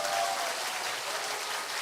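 Church congregation applauding together in a sanctuary, a steady dense wash of clapping that stays loud and even throughout, with no talk over it.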